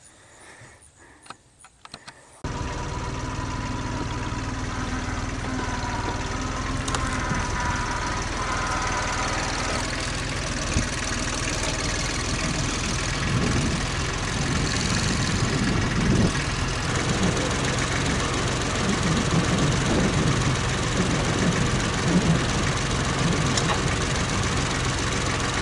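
A tractor engine with a tiller attached on a garden plot, idling steadily and loudly close by after a brief quieter start, its low rumble continuous throughout.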